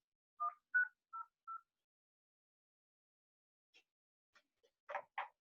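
A standard office desk phone sounds four short DTMF keypad tones in a quick row. After a pause come a few faint clicks and two louder tonal blips.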